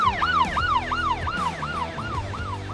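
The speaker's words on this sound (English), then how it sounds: "an unmarked Dodge Charger went chasing after the box truck with sirens screaming" An unmarked Dodge Charger police car races past with its siren wailing in loud, steady rising and falling sweeps, repeating about every half second on a city street, with no voices.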